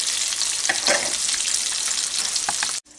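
Chicken tenders in a pan of hot oil, giving a loud, continuous, bright sizzle that holds steady for about three seconds before cutting off abruptly.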